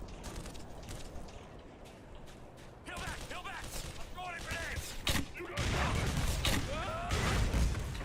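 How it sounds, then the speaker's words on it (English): MP5 grenade launcher rounds firing and exploding in a video game, a series of bursts and booms growing louder toward the end, with someone talking over the action. "I had to fire 2 MP5 grenades to hit those"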